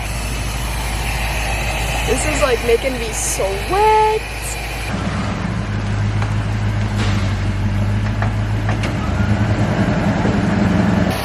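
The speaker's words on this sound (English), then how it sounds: "Wait for my mom to move her car." A nearby car is moved, its engine running as a low, steady hum that shifts in pitch partway through, with a person talking over it.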